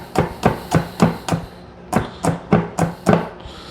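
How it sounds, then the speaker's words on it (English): A knife chops green onions finely on a cutting board, about a dozen crisp, evenly spaced strikes in two quick bursts, close and clear with no talk. "We're gonna cut these at right about there."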